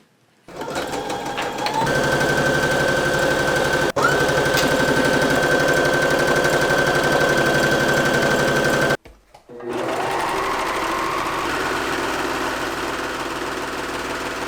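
A sewing machine stitches through three layers of pants fabric, running in a steady, fast mechanical whir for several seconds. It pauses briefly, then resumes its rhythmic hum, close and loud.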